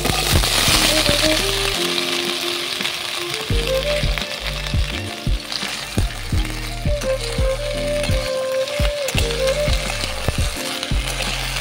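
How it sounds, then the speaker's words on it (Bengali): Cleaned jujubes hit hot oil for a kul pickle, setting off a loud, close, continuous sizzle with scattered crackling pops and occasional stirring clatter, and no voices over it. "এবার পরিষ্কার করে রাখা কুলগুলো দিয়ে দেব"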